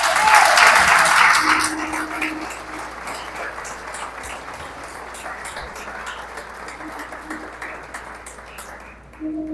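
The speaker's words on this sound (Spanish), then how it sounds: "Vamos a darle un fuerte aplauso a ese amén" A church congregation applauds a sermon, strong at first and then settling into steady sustained clapping with some voices mixed in, filling the room.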